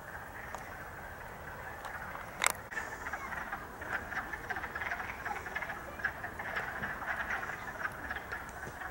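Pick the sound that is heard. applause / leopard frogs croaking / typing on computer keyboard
leopard frogs croaking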